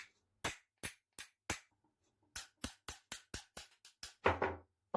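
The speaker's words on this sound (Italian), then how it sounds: "Adesso do qualche colpetto di martello, vediamo se scende giù." A series of light metallic hammer taps on a pin in an antique grinding wheel, first spaced out, then a quicker run of taps, sharp and close, with no talking.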